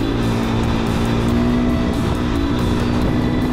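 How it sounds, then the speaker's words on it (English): A racing motorbike at the Virginia City Grand Prix 2024 held at full throttle down a straight, its engine a loud, steady, close drone throughout. "go as fast as your bike can possibly go"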